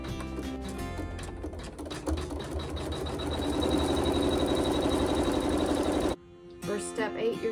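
A home sewing machine runs steadily through a seam on fabric for about six seconds, loud and continuous with a dense mechanical whir, then stops abruptly before a short burst of other handling noise.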